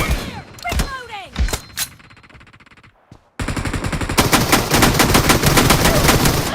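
Video game gunfire in a team battle: a few scattered shots at first, then a sustained loud burst of rapid automatic fire after a brief pause, with shouted voices in places.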